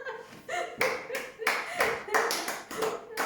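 An open-mic poetry audience claps in several short, loud bursts of applause, with voices mixed in.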